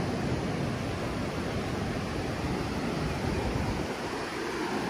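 Sea waves at Patong Beach wash in a steady, even hiss of surf, moderately loud and continuous, with some wind noise on the microphone.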